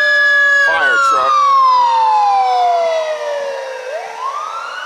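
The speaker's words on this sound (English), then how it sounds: "fire truck." A fire truck siren wails loudly close by, its tone sweeping steadily downward as the engine passes, with brief horn blasts early on and the siren rising again toward the end.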